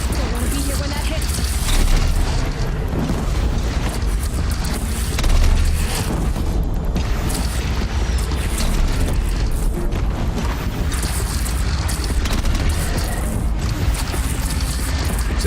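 Heavy booming cannon blasts in the Horizon Zero Dawn game, recurring in dense rumbling bursts with a loud, continuous low-end roar and chaotic battle noise throughout.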